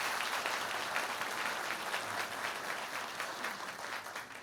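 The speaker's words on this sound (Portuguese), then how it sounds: "uma salva de palmas para eles" A church congregation claps during a sermon, a soft, continuous spread of many hands heard from some distance with no voices over it.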